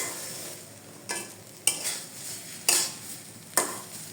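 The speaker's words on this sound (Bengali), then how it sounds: "তারপরে আবারও নেড়ে চেড়ে মিশিয়ে নিচ্ছি" Bottle gourd peel mash being stirred in a frying pan, a soft sizzle broken by four sharp scraping strokes of a spatula against the pan, spaced about a second apart.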